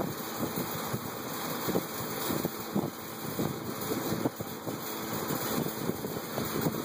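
A vintage McGraw Edison Big 20 electric fan running, a steady airy whoosh with a low churning rumble and light irregular rattles, close and continuous throughout.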